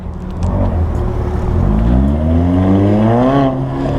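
A Mercedes CLA 45 AMG engine revs hard and close, its pitch climbing in a rising sweep before it holds high near the end, loud and steady with no talking.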